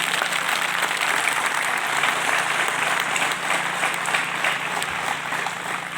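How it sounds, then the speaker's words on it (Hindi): A crowd at a public gathering claps loudly and continuously, a dense unbroken wash of applause for several seconds with no speech on top. "इनके लिए जरा तालियां बजाइए।"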